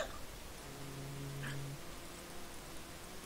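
Cat giving a short drawn-out tonal meow or moan near the middle, faint against quiet room background.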